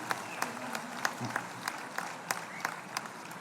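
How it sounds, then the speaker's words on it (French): Audience applause at a union congress, a steady hall-filling patter of many hands clapping for about three seconds with sharper individual claps standing out. "On peut les applaudir les camarades, ils sont en lutte"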